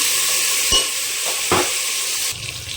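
Potatoes frying in hot oil for an egg and potato curry, a steady loud sizzle throughout with a few brief stirring scrapes, the hiss easing slightly near the end.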